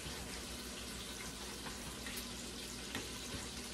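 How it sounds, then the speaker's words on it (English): Steady sizzling of food cooking in a pot, a continuous hissing crackle with no talking. "I can hear it sizzling."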